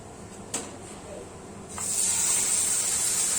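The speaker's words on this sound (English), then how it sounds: "that sizzling sound is what we're looking for" A sharp hissing sizzle starts partway through and holds steady and loud, like steak hitting a hot pan with a touch of olive oil, after a brief clink.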